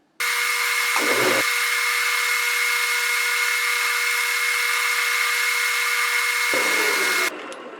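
A Grizzly G4000 lathe runs with a steady, loud high whine and bright metallic ringing while taking a facing cut, the tone shifting briefly near the start and end before winding down.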